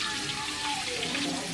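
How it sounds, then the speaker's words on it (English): Dishes being washed under running water in a kitchen sink, a steady close hiss of tap water with faint clinks, no talk. "I also kind of like doing the dishes because it's like a hand bath"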